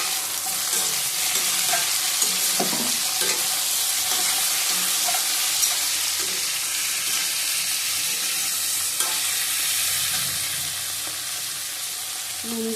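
Tomatoes frying in a pan of poppy-seed posto with drumsticks and potatoes, a steady close sizzle with occasional stirring clinks and scrapes throughout.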